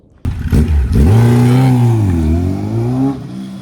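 A Stage 1 tuned 1300 cc motorcycle fires up abruptly after a moment of quiet, then idles loud and close with a deep rumble. It gives a couple of throttle blips that rise and fall in pitch.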